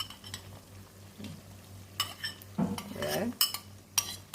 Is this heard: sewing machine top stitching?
no